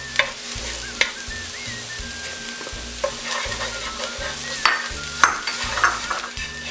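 Chopped green onion and crushed red pepper are stir-fried in a pan, giving a loud, close sizzle broken by scraping stirs and occasional sharp clacks, under a rhythmic music beat.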